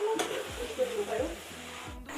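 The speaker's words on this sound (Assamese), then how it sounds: "মাংসটো ভাজি লওঁ" About 1.5 kg of duck meat fries in a pan in a home kitchen, a steady close sizzle broken by repeated scraping strokes as it is stirred.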